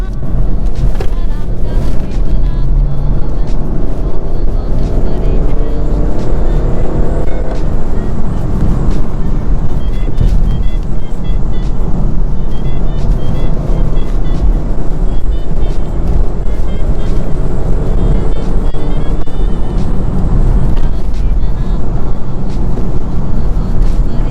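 A BMW 430d M Sport diesel engine, 265 hp, hums steadily and loud throughout, a continuous road drone with some rumble, no clear pauses, as the car accelerates to overtake.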